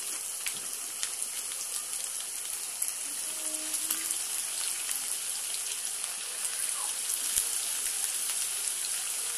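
Raw mutton keema tikki sizzle in hot oil in a pan, a steady bright crackling hiss with tiny popping spatters, close and even for the whole stretch, no talking.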